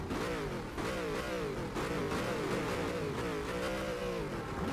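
Several race car engines rev together before a standing start in rFactor 2, including Maseratis, producing overlapping rising and falling engine notes that stay loud and continuous.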